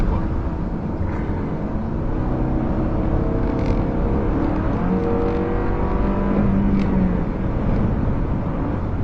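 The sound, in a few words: Nissan Elantra car driving in a video game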